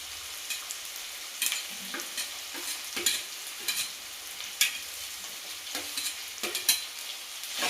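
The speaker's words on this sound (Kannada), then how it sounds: "ನೆಕ್ಸ್ಟ್ ಈಗೆಲ್ಲ ತರಕಾರಿನೂ ಮಿಕ್ಸ್ ಮಾಡ್ತಾ ಇದ್ದಾರೆ." Vegetables and peas are stir-fried in a pan for vegetable fried rice. A soft background sizzle is broken by repeated scraping and stirring strokes at an irregular rhythm, with no speech.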